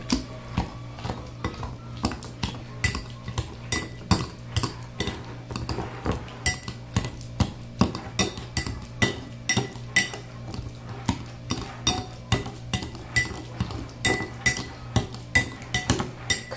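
Repeated metal-on-bowl taps and clinks from a smasher working lime juice and a tablespoon of garlic salt, a steady fast rhythm close up with no talking, made while preparing shrimp tacos.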